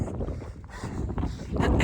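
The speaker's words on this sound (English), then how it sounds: "Running directly into that northern wind" A cold northern wind buffets the microphone during an outdoor run, a close, rough, gusting rumble that swells toward the end.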